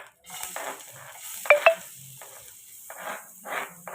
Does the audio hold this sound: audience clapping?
no